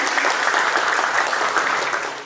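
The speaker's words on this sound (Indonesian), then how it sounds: "Boleh kita berikan tepuk tangan yang meriah?" Audience clapping at a music workshop in Taman Budaya Sumatera Barat, a dense, even burst of many hands that holds steady and fades slightly at the end, with no voices over it.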